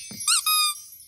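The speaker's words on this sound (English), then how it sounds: "A squeaky toy." A squeaky toy given as a birthday present in a cartoon squeaks twice in quick succession. The squeaks are loud, bright and rising-then-falling, and there is no talking.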